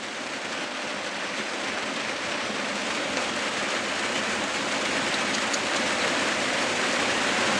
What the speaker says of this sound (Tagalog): At medyo malakas pa po yung ulan.